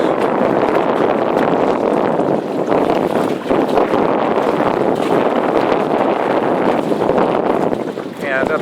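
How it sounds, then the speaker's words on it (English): Strong wind buffets the microphone near a lakeshore dock, producing a loud, constant rumbling roar throughout with only brief dips. "I apologize for the shakiness, it's a little windy."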